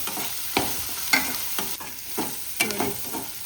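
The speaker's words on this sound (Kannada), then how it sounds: "ಇದು ಟೊಮೆಟೊ ಎಲ್ಲ ಸ್ವಲ್ಪ ಬೇಯಬೇಕು ಒಳ್ಳೆ, ಅಲ್ಲಿವರೆಗೆ ನಾವು ಬೇಯಿಸ್ತಾ ಇರಬೇಕು." Tomato and onion fry in a pan while being stirred, giving a steady close sizzle broken by a few sharp scraping strokes of the spoon about once a second, with no talking.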